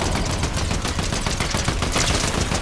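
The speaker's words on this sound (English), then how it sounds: "Why is he always shooting me?" Gunfire in the video game Fortnite, a dense, continuous barrage of rapid shots and crackling impacts, loud and close with no pauses.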